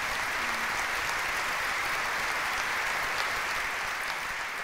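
Loud, steady applause from a comedy show audience, a dense wash of clapping that holds at full strength from start to finish.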